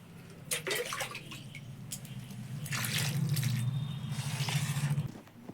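Cut vegetables for a Malabar spinach dish are washed in water, with splashing and sloshing early on, then a fuller stretch of running, swirling water before it stops abruptly.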